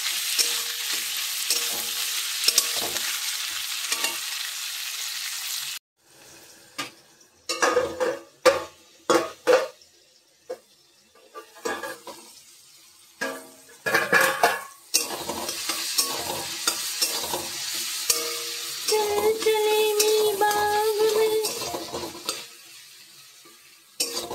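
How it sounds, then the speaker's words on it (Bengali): Cauliflower florets frying in a pan for a vegetable pasta, with a steady close sizzle, then a stretch of rhythmic spatula scrapes and clatter against the pan before the sizzle returns strongly; no talking. "ভালো করে সুন্দর করে কপিগুলোকে লাল লাল করে ভাজা যাবে।"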